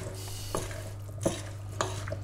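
A pig ear salad with red and green peppers is stirred in a bowl: a few soft, wet scraping and clinking strokes of a utensil against the bowl, close up, with no one speaking.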